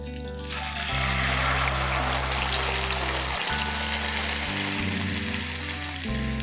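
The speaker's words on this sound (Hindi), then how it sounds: "जैसे ही तड़का रेडी होता है हम इसमें दाल ऐड करेंगे।" Cooked dal is poured into a sizzling tadka of dry red chillies and slit green chillies, making a loud, continuous hiss and crackle of hot oil that runs steadily with no talking.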